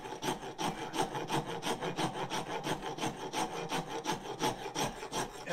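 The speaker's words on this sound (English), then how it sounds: "I started rasping," Rhythmic scraping strokes of a horseshoe rasp filing wood for a tool handle, about three rough rasps per second, close and fairly quiet, with no voices.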